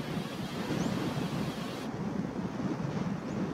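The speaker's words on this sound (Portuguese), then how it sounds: "Vento forte." Strong wind buffets the microphone on an outdoor trail, a loud, continuous rumbling rush with gusty swells throughout and no voices.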